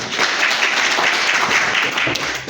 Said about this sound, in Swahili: Mpigie makofi.